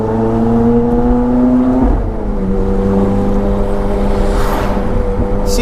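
Aftermarket-tuned Ferrari F430 V8 of about 600 horsepower revving loud and close, with steady engine harmonics that shift in pitch mid-run as it pulls, and a wind-like whoosh building toward the end.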